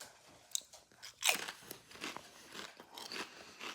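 Spicy pineapple jalapeño Doritos tortilla chips crunch between the teeth in several sharp, close bites followed by quieter chewing, in a quiet room.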